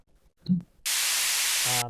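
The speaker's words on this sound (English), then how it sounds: "to create a white noise sample, which I always like to layer that in the drop" White noise sample layered in a future bass drop: after a short low thump, a loud, flat burst of hiss runs about a second, ending as a tonal synth note enters beneath it.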